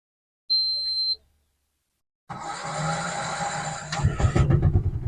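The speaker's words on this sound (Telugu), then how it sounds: "ఓకే స్టార్ట్ అయింది బండి" A Bajaj diesel auto rickshaw engine fires up after a short electronic beep, catching into a loud, steady diesel idle with rough, throbbing clatter that grows slightly heavier toward the end.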